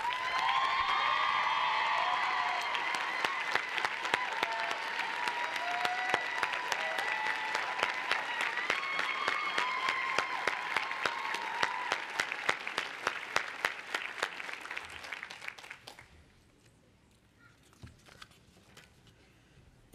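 Commencement crowd at a law school graduation applauding a professor, sustained dense clapping for about fifteen seconds before quickly dying away to scattered claps and a quiet hall.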